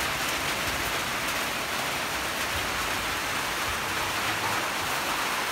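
Heavy rain pours steadily onto surfaces around a house made of amakan woven bamboo in the Philippines, making a dense, constant hiss with no pauses and no voices.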